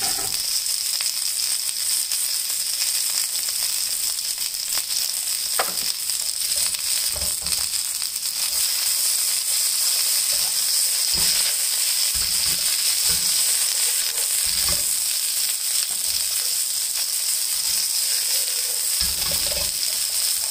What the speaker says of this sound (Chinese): 锅烧热，加油。先炒四季豆，四季豆不大容易熟，要要炒大概五分钟左右